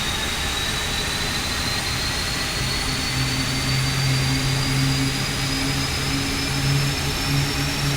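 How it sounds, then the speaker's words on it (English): A Rolls-Royce Trent engine on an Airbus A350 spooling up during start in the Aerofly FS flight simulator, a loud, steady turbine roar with rising whine and a low tonal drone joining partway through, no voices. "Let's hear the Rolls-Royce Trent engines once again."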